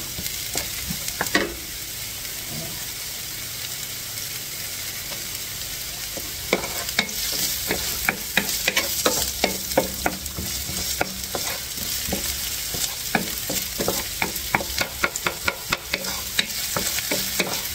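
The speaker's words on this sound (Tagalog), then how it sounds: "Lagyan na natin ang sibuyas" Onions sizzling in hot oil with ginger in a pan while making chicken pastil: a steady crackling fry throughout, with a stretch of sharp scraping and stirring clicks in the second half and no talk.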